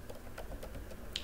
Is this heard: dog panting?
no